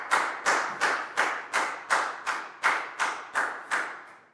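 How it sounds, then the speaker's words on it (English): A class of primary pupils clapping for a classmate after a maths answer: about ten evenly spaced sharp claps, close and moderately loud, with no voices. "High five and a big round of applause for Pak Bung"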